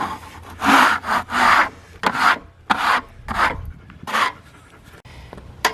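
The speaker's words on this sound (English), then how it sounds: "what are you scraping up now?" Hand scraping on the cut face of a large black walnut log, a series of loud, coarse rasping strokes in irregular bursts, close up and with no talking.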